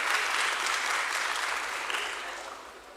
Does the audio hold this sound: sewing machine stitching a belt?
no